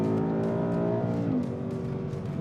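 A Ford Mustang GT's 5-liter V8 revs loudly and close up from inside the car, a deep, rising engine roar that dips briefly as it shifts, then keeps pulling.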